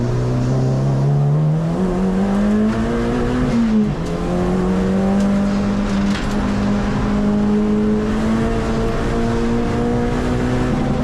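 A race car at speed on the Mallory Park circuit, its engine note loud and steady, rising in pitch through the gears and holding a sustained drone with no talk.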